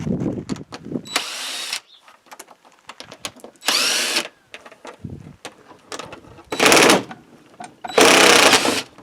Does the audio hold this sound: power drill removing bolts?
yes